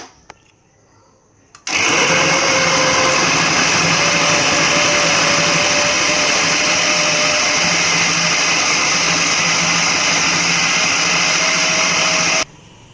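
An electric kitchen grinder mixes spices with a spoonful of ghee, starting abruptly with a loud, steady motor whine and running evenly for about eleven seconds before cutting off sharply.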